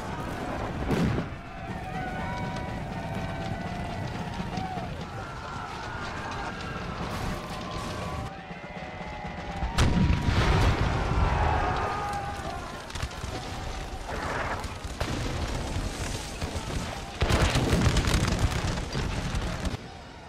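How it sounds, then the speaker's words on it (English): Defending Civil War howitzers fire canister during the 1863 Second Battle of Fort Wagner in a cinematic battle scene: deep booming blasts and rumble layered with music-like tones and a noisy, continuous battle din, loud throughout. "3 of the defending howitzers were now in action and firing canister into their flanks"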